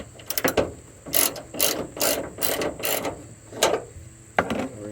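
A hand ratchet backs out a bolt on a ditch light bracket of a Honda Pilot, giving bursts of quick metallic clicking in uneven strokes, close and fairly clear, with no talking.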